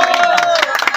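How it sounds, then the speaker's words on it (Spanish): A studio audience briefly claps for a cumbia group on a comedy variety show, a short burst of loud, rapid claps under a voice and a sustained musical tone. "Aplausos, por favor."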